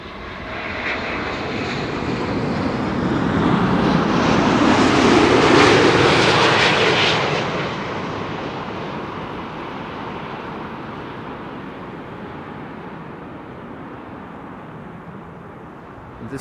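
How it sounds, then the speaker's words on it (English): Boeing 787-9 Dreamliner airliner arriving at Amsterdam Schiphol Airport on a flight from Sao Paulo, its engine roar swelling as it passes close overhead, then fading into a long, steady rumble. "This was a mid-sized 7879 Dreamliner, 8 years old."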